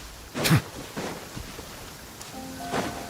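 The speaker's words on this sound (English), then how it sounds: "This heavy rain must be quite an inconvenience for you." Heavy rain in the fantasy game Genshin Impact, a steady wash of rainfall broken by a sharp close crack and a softer rumble like thunder, with no talking.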